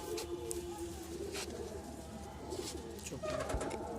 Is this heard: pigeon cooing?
yes